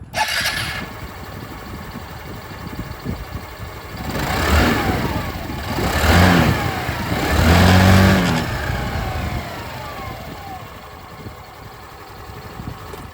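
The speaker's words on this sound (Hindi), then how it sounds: "अब मैं आप लोगों को यहाँ पर जो जूम 125 की आवाज़ है ये भी सुना" A 2026 Hero Xoom 125 scooter idles with a steady, rough engine and exhaust drone, swelling through a few loud revs in the middle before settling back to idle.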